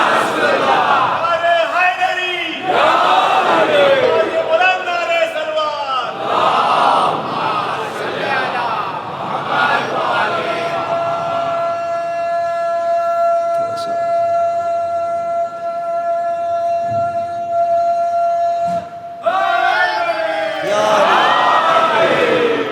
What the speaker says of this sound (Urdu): اس بچے نے نعرہ لگایا اور آپ نے 3 نعرے لگائے